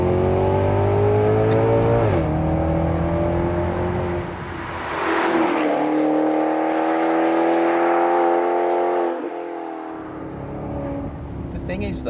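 A Maserati GranCabrio engine in sport mode with manual selected roars close and loud, its pitch rising through repeated rev climbs broken by quick gear-change dips, with an exhaust crackle around the middle.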